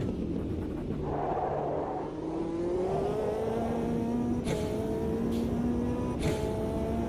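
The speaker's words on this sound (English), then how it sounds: "that turbo wastegate sounds like air brakes on a lorry" A turbocharged race car in the Automobilista 2 racing game accelerates with a loud, rising engine drone, and short sharp bursts of turbo wastegate hiss cut in near the end.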